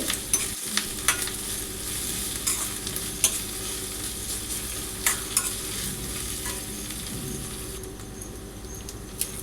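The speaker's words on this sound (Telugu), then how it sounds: "ఆనియన్స్ బాగా ఫ్రై అవుతున్నాయి" Onions frying in a pan for chicken biryani make a steady close sizzle, punctuated by sharp irregular spatula taps and scrapes, with no voices.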